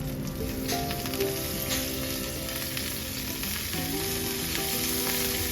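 Chana dal, urad dal, hing and curry leaves crackle and sizzle steadily in hot oil for a tadka, a close, dense frying hiss with small pops throughout and no talking.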